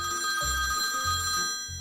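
A mobile phone rings with a steady electronic ringtone, filling the short stretch alone at close range, its tone pattern repeating without pause.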